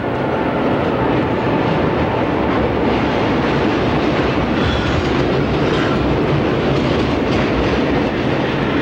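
A train rumbles past continuously and loudly, with a steady clickety-clack of wheels on rails throughout.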